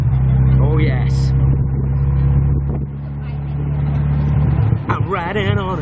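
A tuk-tuk on the move around Chiang Mai gives a loud, steady low engine drone and rumble, with a person talking over it the whole time.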